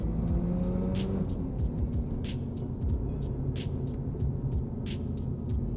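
Stock 1995 Efini RX7 twin turbo heard while driving, with a steady engine drone and heavy tire roar filling the cabin throughout, plus a series of periodic ticking or thumping bursts.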